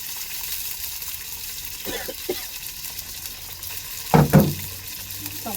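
Onions and chillies fry in a pan for a fish curry, giving off a steady soft sizzle, with a couple of brief clattering stirs and a few spoken words.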